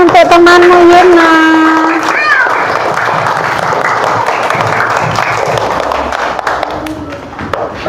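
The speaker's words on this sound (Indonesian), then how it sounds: "Tepuk tangan untuk temanmu Yuna." Classroom applause for a student, a burst of clapping from children that carries on steadily for several seconds, with a voice briefly over the start and fading near the end.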